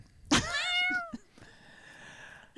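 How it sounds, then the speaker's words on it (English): A single loud, drawn-out cat meow with a harsh, complaining tone, close by, followed by quieter rustling. "Just the sound of an angry cat."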